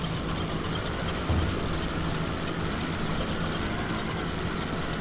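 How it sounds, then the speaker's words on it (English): A World War I biplane engine in the flight game Wings Over Flanders Fields drones steadily and loudly with a rough, constant roar, one brief low thump partway through hinting at trouble, with no talk. "Engine trouble."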